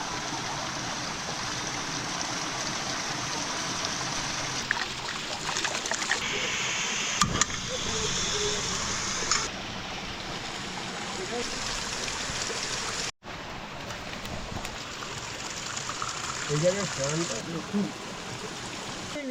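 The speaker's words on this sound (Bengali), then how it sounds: "পাহাড়ি ঝর্ণা আর এই সাথে দার্জিলিং টি ও ফাটাফাটি" A mountain waterfall stream in the Darjeeling hills rushes steadily and close by. Its broad, continuous roar carries on under people chatting nearby.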